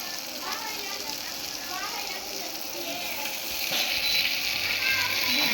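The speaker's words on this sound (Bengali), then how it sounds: "বিখ্যাত সেই চুলাতে হচ্ছে বেগুন ভাজি করছে" Eggplant frying on a traditional clay stove, a continuous crackling sizzle close by with occasional scraping, while a person talks over it and the frying grows louder toward the end.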